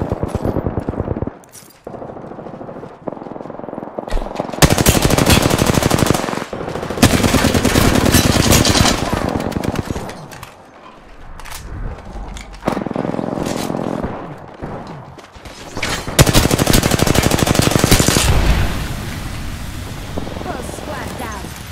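Apex Legends weapon fire comes in long, loud, rapid automatic bursts separated by short quieter gaps, with a player's voice talking at times between the volleys.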